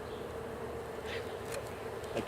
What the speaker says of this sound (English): A roar of bees. Really roaring.